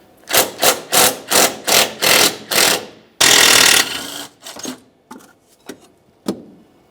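A hand ratchet backs out the last front strut bolt on a 2012-2018 Nissan Altima: about eight steady, close rasping strokes in quick rhythm, then a longer harsh rattle followed by scattered metallic clicks and clunks, with no talking.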